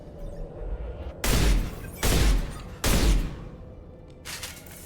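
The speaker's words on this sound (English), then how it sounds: "Assault shotgun." Assault shotgun in the video game Mass Effect 2, three loud, heavy blasts spaced under a second apart, each with a short booming tail, then a fainter fourth report at the end.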